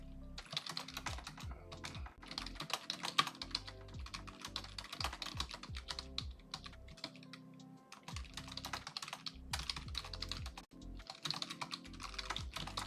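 Rapid clicking keystrokes on a computer keyboard as a text message is typed, continuous and close with brief pauses, no voices.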